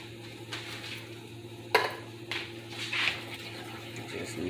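A spoon scrapes and clinks against a pot as something is stirred, with a few sharp knocks over a low steady hum.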